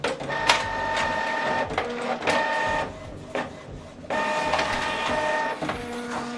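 An office printer runs through a single-page job sent from a laptop, whirring and clacking in bursts with steady mechanical hum between short pauses, close and fairly loud with no talk.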